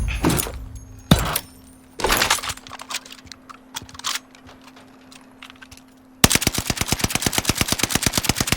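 An NZ-41 rifle fired in a video game: a few sharp separate shots with pauses, then a loud, rapid automatic burst of evenly spaced rounds running to the end.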